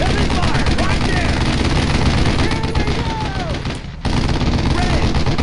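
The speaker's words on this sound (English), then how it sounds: "Heavy fire!" Dense, heavy gunfire rattles continuously in the World War II video game Brothers in Arms: Road to Hill 30, loud bursts packed together with shouted voices over the battle noise.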